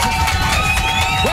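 A studio audience at a French radio show broadcast on TV cheers and applauds, a loud, dense, continuous crowd roar with whoops.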